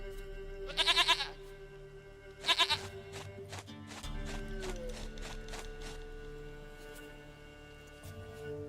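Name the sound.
goat bleating in The Witcher 3 video game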